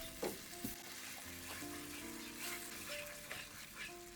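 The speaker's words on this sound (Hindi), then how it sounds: "साथ ही मैं इसमें 3 टेबलस्पून फेंटा हुआ दही शामिल कर रही हूँ।" Whisked yogurt, chopped green chillies and tomatoes cook in oil in a pan, a steady close sizzle and bubbling with a few light stirring clinks, no speech.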